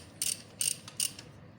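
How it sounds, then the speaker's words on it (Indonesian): A ring spanner or 14 mm socket tightens a part on a Honda Blade 125 motorcycle, giving four short, close metallic ratcheting clicks spaced evenly apart in a quiet setting. "baru kita kencangkan menggunakan kunci ring ataupun sok 14"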